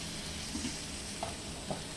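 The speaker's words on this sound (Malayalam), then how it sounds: "അതിൻ്റെ കൂടെ നമ്മൾ ആദ്യം മുറിച്ച് വെച്ചിട്ടുള്ള ഉരുളക്കിഴങ്ങ് പീസുകളുണ്ടല്ലോ അതും." Potato pieces being stirred into a spicy red chicken curry in a pan, with a steady loud sizzle and a few soft stirring scrapes.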